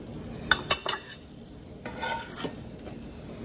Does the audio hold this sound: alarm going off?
no